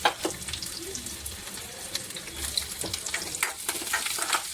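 Chopped onions sizzle and fry in a pan on a home kitchen stove, a steady soft crackle broken by sharp stirring clinks and scrapes, heard up close with no talking.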